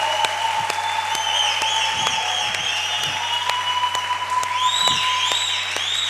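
A church congregation applauds during a French-language worship service, producing steady, dense clapping that fills the room throughout, with sustained tones and brief vocal sounds running over it.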